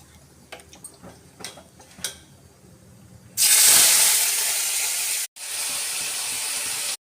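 Ash gourd fritters dropped into hot oil for lunch, a few soft taps and clinks, then a sudden loud sizzling hiss that holds steady, breaks briefly, and resumes.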